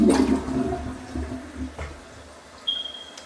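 A toilet flushes in a rush of water that starts loud and close, then drains and tapers into a softer trickle as the tank refills, ending with a thin high whine.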